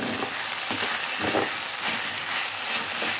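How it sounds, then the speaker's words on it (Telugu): Chopped onion frying in hot oil in a pan, a steady close sizzle and crackle with faint stirring scrapes throughout. "ఉల్లిపాయ వేగిపోయింది కదా,"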